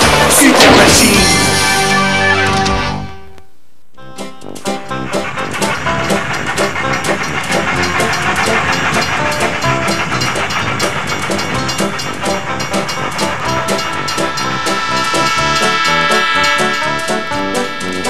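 Trains move through a railway marshalling yard, a rumbling, clattering run of wagons with hissing and metallic ringing that holds steady after a brief loud opening and a short silence.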